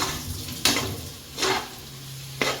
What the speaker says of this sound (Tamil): தக்காளி போட்டுக்குங்க போட்டுக்கிட்டு வதக்குங்க